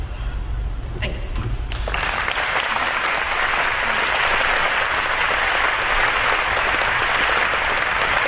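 A seminar audience at a university women's leadership event bursts into applause after a brief quiet moment, the clapping swelling quickly and holding as a full, sustained ovation.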